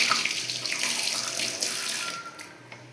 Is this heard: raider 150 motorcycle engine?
no